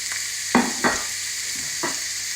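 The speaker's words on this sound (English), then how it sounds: "let's just fry that off for a minute" Chunks of sausage frying in a pan with a constant bright sizzle, broken by a few scraping stirs of a utensil, close and fairly loud with no talking.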